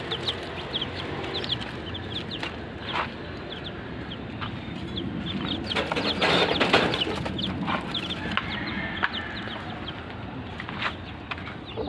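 A Chinese chicken hen on a farm clucking in short repeated calls, fairly close, over a busy outdoor background with other birds.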